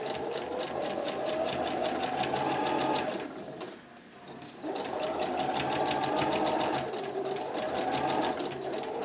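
A sewing machine stay stitches the fabric edge of a pillowcase dress, humming in a fast, even rhythm close by. It stops briefly for a moment midway, then starts again and runs on steadily.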